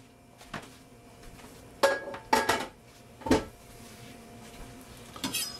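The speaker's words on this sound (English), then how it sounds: "let's cut it and eat it" Slicing a baked handvo, a savory cake with a crispy bottom, on a board: a few separate knife-and-dish clinks and scrapes at scattered moments, fairly quiet, with no talking.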